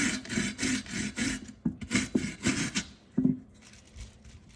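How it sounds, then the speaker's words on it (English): A potato rubbed against a stainless steel grater from a mixing bowl set, making close, rhythmic rasping strokes in quick bursts with short pauses between them, with no talk. "you see that it's grating right here"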